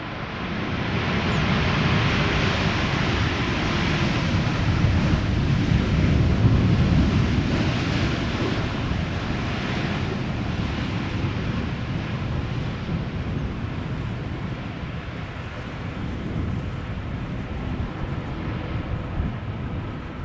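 A KLM Boeing 787-10 Dreamliner, one year old, arrives at Amsterdam Schiphol after a flight from New York, heard as a steady, broad roar of jet noise with wind buffeting the microphone. The roar holds for the whole stretch and swells slightly midway.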